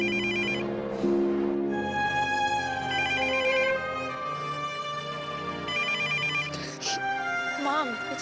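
A telephone rings in a home scene from a 2006 German TV drama, its electronic tone repeating in bursts while people talk over it.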